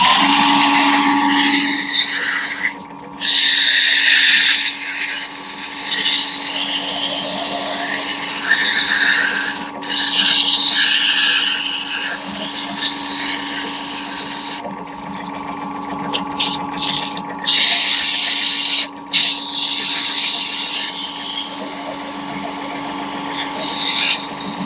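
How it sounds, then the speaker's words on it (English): Sandpaper held against a spinning workpiece on a wood lathe, a steady whirring hiss that runs continuously with a few brief dips as the paper lifts off, close and fairly loud with no talk over it. "So get my sandpaper out, and we're just going to hit the end of that ever so slightly."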